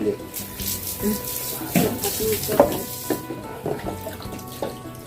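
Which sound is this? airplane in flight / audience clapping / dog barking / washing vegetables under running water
washing vegetables under running water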